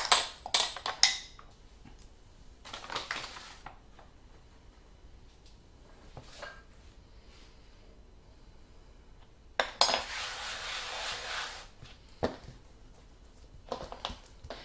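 A spoon scraping and clinking against a bowl while icing sugar and toasted marshmallow icing are spooned out for a Christmas cake, with sharp metallic clatters in short bursts separated by quieter gaps.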